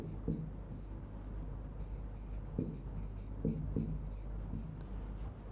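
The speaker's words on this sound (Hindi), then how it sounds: "अच्छा एक नोट लिखेंगे यहां पे" A pen writes a note by hand on paper, giving soft scratchy strokes in short bursts against a low steady background hum, fairly close and fairly quiet.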